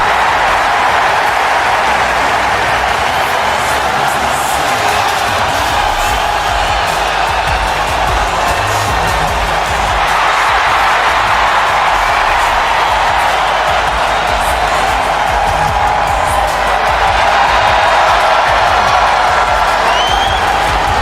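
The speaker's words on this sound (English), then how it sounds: "And the crowd is cheering for the Profits here tonight." A loud, continuous arena crowd cheers and applauds at a WWE SmackDown event in the WWE 2K25 game, a dense, unbroken roar holding steady from start to finish.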